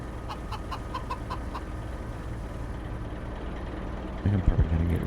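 Chickens in the farming video game Farming Simulator 25 cluck in a quick, evenly spaced run of clucks at moderate distance over a low engine-like hum, which grows louder and rumbling toward the end.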